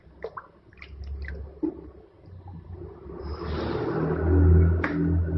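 A coconut is handled and pushed down into a bucket of water, giving a few small clicks and knocks, then a building swirl and slosh of water that swells loud near the end.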